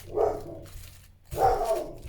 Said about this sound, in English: You can hear her barking in the background.